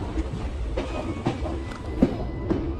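A toy train rolls along the rails in Himachal Pradesh, giving a low, steady rumble with faint, irregular clicks from the wheels at a moderate distance.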